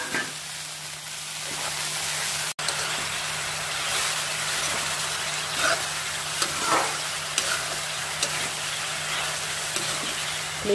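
Chopped cabbage frying in a pan and stirred with a ladle over high heat for a mixed vegetable dish with peas and carrots: continuous close sizzling, repeated scraping stir strokes and a sharp knock partway, no voices.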